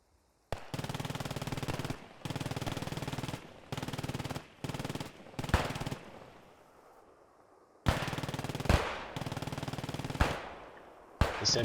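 Machine gun fire from an MG team in a World War II style video game match, sustained bursts of rapid shots broken by short gaps, loud and close with no talking.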